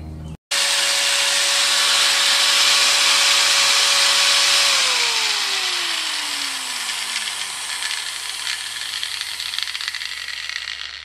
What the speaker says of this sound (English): to take the grinder and now polish this up again to try and get rid of it again